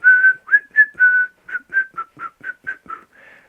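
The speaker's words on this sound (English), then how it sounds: "Like say that Kill Bill whistle song," A person whistles the Kill Bill whistle song melody, a dozen clear sustained and short notes in a steady phrase, close and alone with no background.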